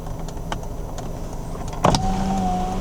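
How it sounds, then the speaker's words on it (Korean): A used car's power window winding down: soft background hum and a few faint clicks, then a switch clunk and the steady whirring of the window motor running close by. "창문이 내려갈 때나 올라갈 때 잡소리는 없는지 체크를 해주시면 되겠습니다"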